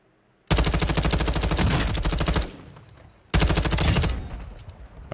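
Loud, close automatic gunfire from a Call of Duty Warzone firefight: a sustained rapid burst of shots, a short lull with fading echoes, then a second long burst, with no talking.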